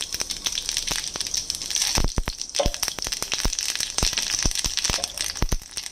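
Half a spoon of panch phoron spices crackling in a tablespoon of hot white oil in a pan: dense, sharp pops and snaps burst continuously and close, over a steady frying hiss.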